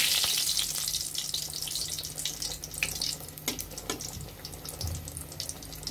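Beguni, eggplant slices in batter, frying in hot oil: a bright, steady hiss and sizzle with scattered pops and crackles, close by and fairly loud, with no talk over it.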